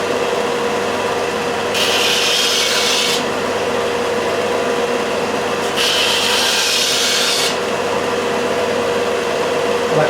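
A Ferrex (Aldi) disc and belt sander runs on wood with a steady motor drone, and two rasping bursts of sanding, each lasting a second or more, rise over it. No one speaks.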